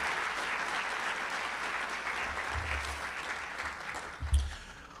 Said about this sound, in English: How about a big round of applause for all of our...